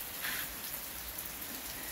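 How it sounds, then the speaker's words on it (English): Heavy rain pouring down outside a house at 208 Ashwood: a steady, dense hiss of falling water that fills the whole clip evenly and without a break, with no voices. "it's pouring down rain"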